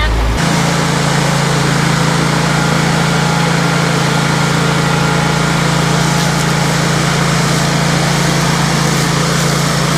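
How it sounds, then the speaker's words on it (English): Lawn mowers run loud and steady throughout, a close continuous engine drone with a strong low hum and no pauses. "We're gonna get those mowers dirty once again."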